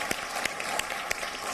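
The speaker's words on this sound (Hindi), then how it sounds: "एक बार जोरदार तालियां हो विनोद पाल आपके बीच" Applause from a kavi sammelan audience greeting poet Vinod Pal: dense, sustained clapping with a steady hum underneath and a few sharper, louder claps standing out along the way.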